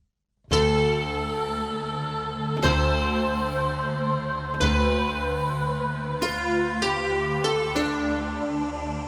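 A bright, layered Korg M1 synthesizer preset plays a sequence of ringing chords, each struck with a sharp attack and sustained shimmer, with no voices.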